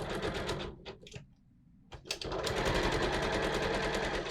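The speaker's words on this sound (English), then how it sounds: "I'm using my little zigzag stitch" Sewing machine running a small zigzag stitch along elastic on power mesh, a fast steady mechanical whir in close bursts with a brief pause in the middle, then continuous stitching.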